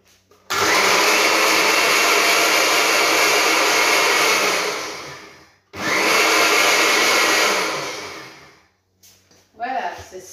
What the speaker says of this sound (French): Et je vais mixer tout ceci.